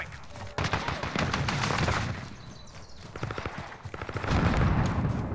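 Gunfire in Call of Duty Modern Warfare, repeated bursts of automatic shots at mid distance, loud rapid cracks coming in clusters with brief lulls between them.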